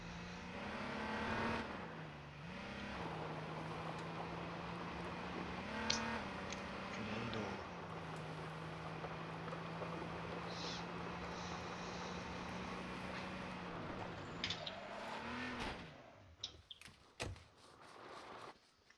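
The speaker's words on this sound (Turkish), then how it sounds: "Arabayı çalışır halde bıraktın" A car engine idles steadily in the video game H1Z1 King of the Kill, a low continuous hum with a couple of brief revs, ending in a burst of sharp, clattering noises.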